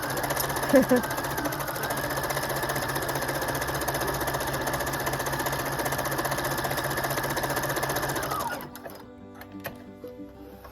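A Husqvarna Viking #1+ sewing machine stitches steadily under the foot pedal, its motor a fast, even whir with rapid needle clatter running for about eight seconds before stopping abruptly.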